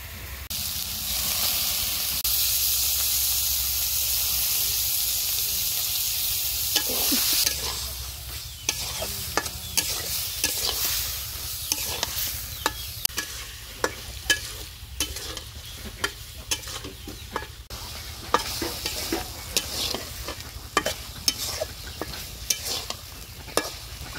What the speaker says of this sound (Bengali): মশলাটাকে খুব ভালোভাবে কষিয়ে নিয়েছি এখন মাংস দিয়ে দিব